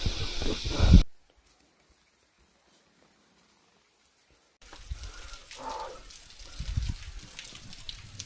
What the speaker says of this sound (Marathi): हे सुंदर पाण्याचा वॉटरफॉल आहे पाठीमागे. छानपैकी पाणी पडतंय